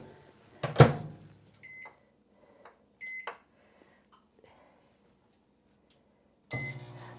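A microwave oven with a bowl of melting butter, chopped Oreo-type cookies inside: a loud clunk and brief hums and beeps from the door and keypad, then quiet before the oven starts running with a steady hum.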